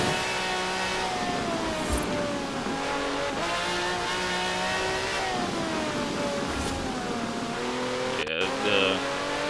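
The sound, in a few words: V12 engine car revving in video game Forza Horizon 4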